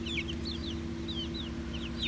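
Heritage breed chickens with red combs, white bodies and blue feet cluck and chirp softly, short high calls repeating over a steady low hum in a coop.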